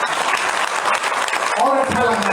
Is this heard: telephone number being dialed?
no